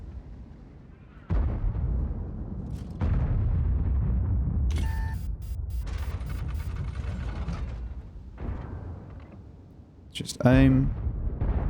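Tank gun fire in World of Tanks from a Jagdpanzer E 100: a few heavy booms with mechanical clanks and ratcheting reload noises between them, while someone speaks briefly.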